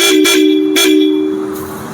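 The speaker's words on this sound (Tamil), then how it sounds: "ஹாரன் கூட பார்த்திங்கன்னா ஹெவி ஹாரன் தான் போட்டிருக்கோம்." A heavy aftermarket horn on a 1999 Bullet motorcycle honks in two short loud, deep blasts, then a third briefer toot, very close and piercing.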